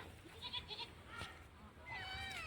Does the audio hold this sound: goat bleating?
yes